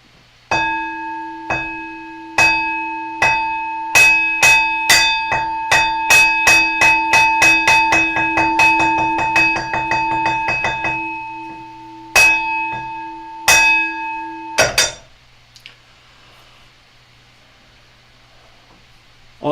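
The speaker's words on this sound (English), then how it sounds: "Get my bells set up here." Meditation bells rung at a Zen service, a series of clear ringing strikes that start spaced, speed into a rapid roll, slow again and end with a few final strokes before quiet.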